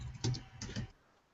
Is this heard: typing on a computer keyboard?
yes